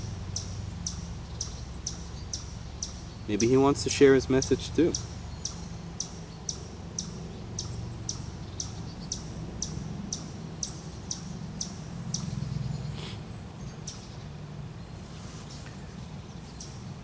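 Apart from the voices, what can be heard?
a bird singing outdoors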